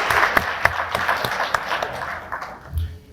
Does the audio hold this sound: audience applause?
yes